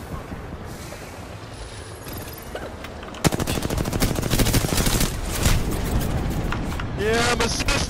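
Rapid bursts of R99 submachine gun fire in a video game, loud fast rattling volleys starting mid-clip after quieter ambience, with a brief voice near the end.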